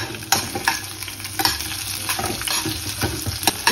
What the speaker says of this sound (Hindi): तो इसको मैं साथ में ही तेल में डाल दूंगी गरम होते ही